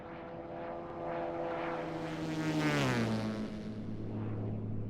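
A Cirrus SR22 turbonormalized piston engine drones steadily in flight in X-Plane 12, its propeller hum holding a layered harmonic tone that dips lower midway and then settles, loud and continuous with no talk.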